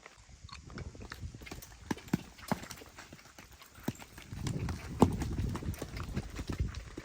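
A 15-month-old horse's hooves clip-clop in a steady rhythm during training, loud and close, with the footfalls growing heavier midway and faint voices in the background.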